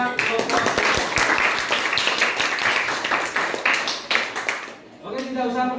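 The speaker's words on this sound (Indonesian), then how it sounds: "Tepuk tangan buat kelompok." Students in a classroom clap for a group of four as it comes to the front. Dense, fairly close clapping fills about five seconds, then stops abruptly and a voice begins talking.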